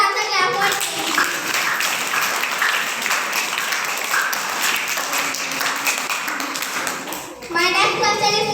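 A room of students at a quiz competition applauds a correct answer with steady, dense clapping that runs for several seconds, briefly dips, then surges again, with children's voices mixed in.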